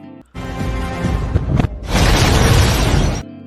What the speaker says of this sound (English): a massive explosion occurred, destroying most of the base